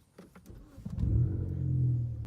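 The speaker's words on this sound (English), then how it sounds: "Then you want to either turn your key or press the start button." A manual-transmission car's engine cranks with a few short bursts, then catches and settles into a steady, loud idle rumble that carries through to the end, with no talking.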